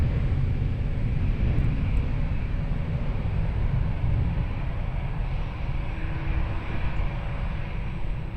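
An airplane at Lisbon Airport produces a continuous broad engine roar, steady and fairly loud throughout, with no voices.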